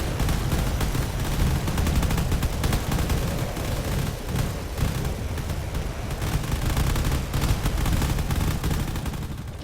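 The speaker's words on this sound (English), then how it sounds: "all those cannon shots are proving to be lethal" Cannon fire pounds away in a space battle from the game Drone Wars, a dense, loud barrage of overlapping shots and blasts that rolls on without pause.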